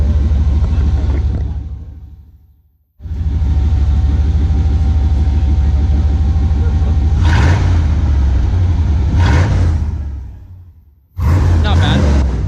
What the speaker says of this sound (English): Tristan, give it a couple revs.